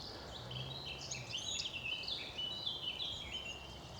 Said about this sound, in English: There's the old blackcap.